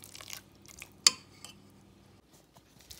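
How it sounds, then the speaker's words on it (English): Shredded cheddar cheese being stirred into cassava in a bowl, soft scraping mixing with a few sharp utensil clinks against the dish, fairly quiet, no voices. "We're gonna mix that second cup of cheese into the cassava."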